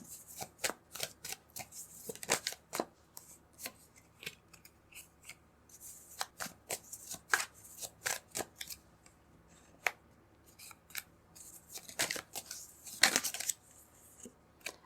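Tarot cards being shuffled and pulled, a long run of crisp card flicks and riffle snaps with irregular rhythm, close and fairly quiet, with no talking.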